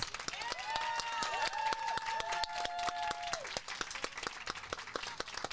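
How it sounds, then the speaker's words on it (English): Audience applause for new graduates at a community steward graduation ceremony, a steady wash of many hands clapping that fills the room throughout, with faint tonal feedback lines sliding underneath. "Let's have a round of applause for all our new graduates."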